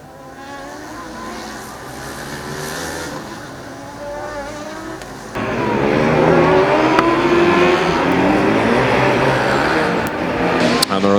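Politecnico di Milano Formula Student race car pulling onto the track at an endurance event, its engine note rising from a steady hum to a louder, sustained drone that holds close and continuous.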